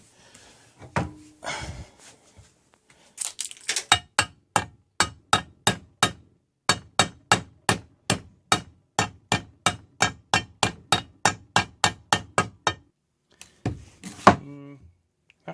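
Sharp metallic hammer taps drive a bearing into a Husqvarna 385XP chainsaw engine case in a steady, rapid series of about two dozen blows, preceded by a few scattered knocks and rustling, close by.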